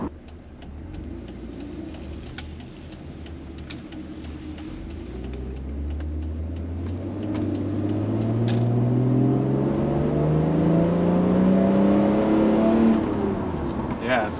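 A Mercedes W202 C36 AMG with its M104 engine and custom exhaust revs up close, the pitch climbing in a long rising sweep and getting louder before easing off, with a slight rasp.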